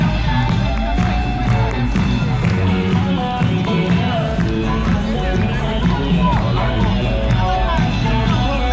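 Street crowd on Fremont Street in Las Vegas clapping and cheering for a performer, a dense, loud wash of voices, whoops and scattered claps that runs without a break.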